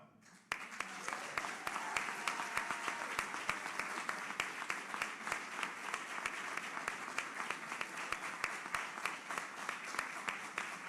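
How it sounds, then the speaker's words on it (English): A large crowd cheers and applauds heavily and steadily throughout at a bill signing by the Florida governor, with dense clapping and scattered whoops and no clear speech. "Now they're cheering pretty heavily"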